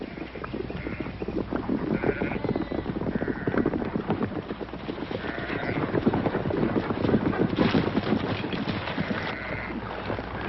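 A flock of sheep bleating amid the clatter of hooves and a crowd being driven through, with repeated bleats rising over continuous shuffling and trampling at close range.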